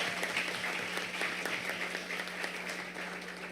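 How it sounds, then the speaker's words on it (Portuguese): Audience applause rings out at a solemn assembly session honouring a school's anniversary, steady scattered clapping heard at a modest level with a low hum beneath it. "pela professora Aline, a quem eu peço uma salva de palmas."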